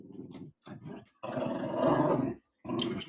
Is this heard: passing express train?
no